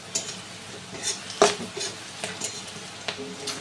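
Spices for a potol dish are stirred in a pan, with a soft continuous sizzle under intermittent scraping and light clinks of a spatula against metal, one stroke standing out louder than the rest.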